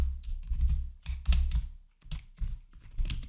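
Computer keyboard typing C program code, with bursts of key clicks in an uneven rhythm and short pauses between runs of keystrokes, close and fairly quiet.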